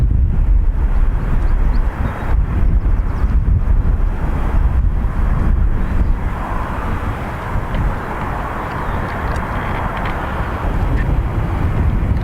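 Steady breeze buffeting an outdoor microphone at Dublin Airport, a continuous loud rumbling roar of wind noise with gusty fluctuations and no clear voices throughout.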